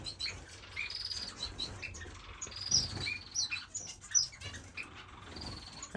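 Pet birds, including a Cornhole blues, in an indoor bird room, giving frequent sharp high chirps and squawks over a low background hum, fairly close and without any talk.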